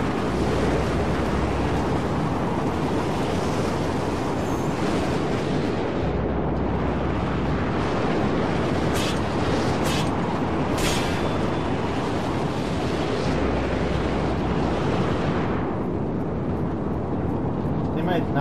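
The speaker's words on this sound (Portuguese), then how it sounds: "tempestade de areia, velho." Sandstorm in the Mad Max video game: a loud, continuous roaring wall of wind and blowing sand, dense and unbroken, with a few brief higher tones sounding through it.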